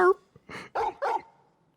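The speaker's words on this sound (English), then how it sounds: "You got all that from a couple barks, huh?" A dog in the video game Final Fantasy XVI gives a short whine followed by three quick barks, close and clear, with a faint voice at the start.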